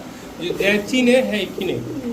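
Close, soft pigeon coos in a low throaty rhythm, a few rounded calls repeating over a murmur of voices.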